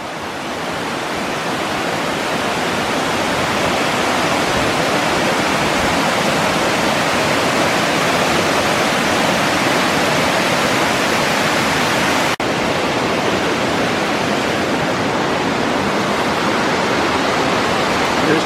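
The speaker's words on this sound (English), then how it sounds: "We made it up to Mingo Falls." Mingo Falls in Cherokee, North Carolina, roaring as a loud, constant rush of falling water, a dense unbroken hiss that stays steady for the whole stretch.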